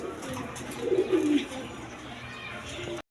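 Blue bar shorting pigeons coo softly close by, a low murmuring call swelling briefly near the middle over a faint background hum.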